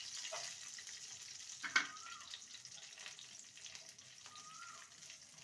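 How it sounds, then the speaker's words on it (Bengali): Raisins and cashews fry in ghee in a pan, a soft sizzle with occasional stirring scrapes and one sharp clink, fairly faint and close. "কিশমিশটা যতক্ষণ না ফুলছে ততক্ষণই নেড়ে যেতে হবে"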